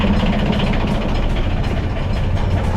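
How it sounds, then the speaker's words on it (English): A two-cylinder diesel motor on a tour boat idles steadily close by, a loud, even low throb with a rough vibrating rumble running unbroken throughout, no voices over it. "2 cylinders? Diesel? Yeah. Diesel motor."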